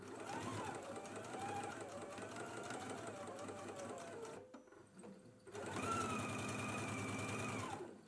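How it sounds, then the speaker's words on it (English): A sewing machine stitches a side seam pocket with a 3/8-inch seam allowance, making a fast, steady mechanical whir. Two long runs are split by a brief pause near the middle. "we can go ahead and stitch in a 3/8 of an inch seam allowance. You want to stitch down the whole pocket here."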